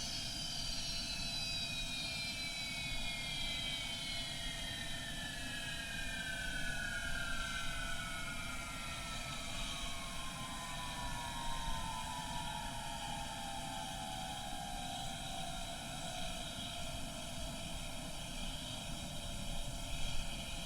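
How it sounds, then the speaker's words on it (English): Old Fokker F28 jet engines in Microsoft Flight Simulator whining steadily with a high descending tone as they spool down at shutdown, a constant loud roar throughout, no voices. "Old school jet aircraft engines."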